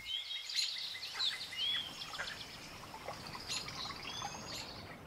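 Small birds chirp and call in short bursts along a river in France, with a faint steady trickle of water beneath the calls and no voices.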